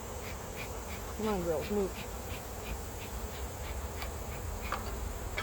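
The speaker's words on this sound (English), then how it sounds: "Get all these bees." Honey bees buzz steadily around an open hive as frames are pulled during a honey harvest and queen check, a dense close swarm drone with a brief louder swell while a person speaks over it.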